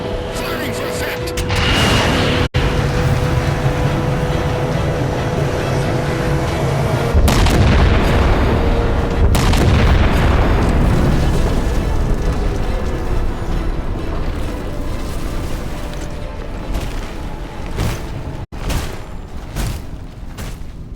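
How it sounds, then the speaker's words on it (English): Artillery strike explosions in Halo 4, heavy booming blasts rolling one after another with long rumbling tails, loud and close, building into a sustained barrage before fading with scattered later impacts. "Target locked. Firing for effect."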